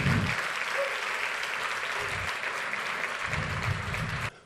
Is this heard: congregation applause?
yes